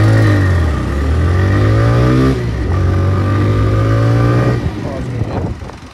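A TVS Raider 125 motorcycle in power mode pulls hard in first gear from standstill, its engine note climbing steadily in pitch as it revs loud and close, then easing off near the end, with a rider talking over it.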